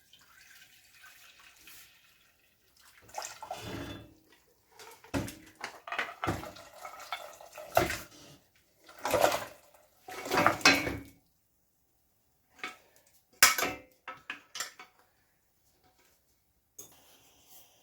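Cow foot is moved carefully from one pot to another in a home Jamaican kitchen, giving scattered clanks and wet sloshes in irregular bursts at close range, with quieter pauses between them and no talking.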